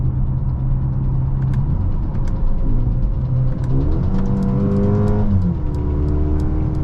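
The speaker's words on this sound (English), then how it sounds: "Transmission shifts insanely quick." A 2023 Mercedes GLA 35 AMG SUV accelerates hard from the cabin, engine note climbing in steady sweeps and dropping sharply at each quick upshift, several rapid shifts in a row, loud and continuous with no talk.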